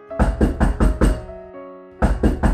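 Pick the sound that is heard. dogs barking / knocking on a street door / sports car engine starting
knocking on a street door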